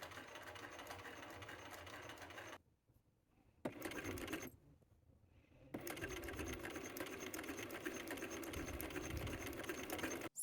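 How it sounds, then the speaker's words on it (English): Sewing machine stitching a dart in a garment, running in a steady close whir that stops twice briefly before resuming for a longer continuous run. "before doing this sewing section bit"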